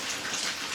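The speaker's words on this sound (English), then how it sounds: "It's raining." Steady outdoor rain falls on a Deep South homestead, a soft, even patter and hiss of drops with no voices, fairly faint and continuous throughout.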